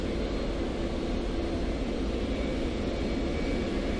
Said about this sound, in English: look at all the planes coming in too